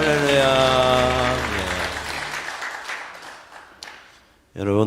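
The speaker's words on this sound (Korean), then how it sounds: "영광의 박수 올리겠습니다." Congregation applause during a church worship service, rising as sustained music fades out, then a dense patter of clapping that dwindles before a voice starts speaking.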